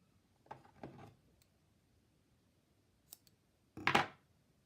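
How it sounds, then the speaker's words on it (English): Scissors snip through crochet yarn while making a velvet hair scrunchie: a few quiet, close, crisp snips spaced apart, the last one sharpest and loudest, with no talking. "And then I cut that yarn."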